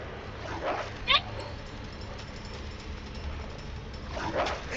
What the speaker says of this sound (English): That's a dog. That's another dog.